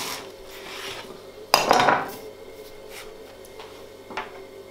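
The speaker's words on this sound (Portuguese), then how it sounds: "E cortamos a cebola ao meio." A knife cuts through an onion on a board in a kitchen, one sharp crunching slice that rasps for about half a second, close and fairly loud, with faint clinks from utensils before and after.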